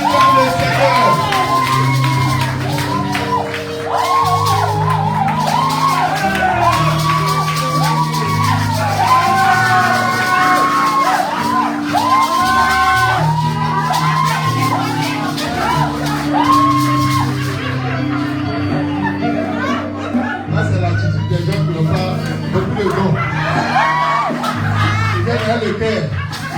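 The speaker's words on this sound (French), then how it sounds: "Acclame le Seigneur pour la famille Joseph" A church congregation at a Sunday service crying out and cheering in acclamation, a loud, sustained wall of shouting and whooping voices over continuous bass-heavy music, thinning slightly toward the end.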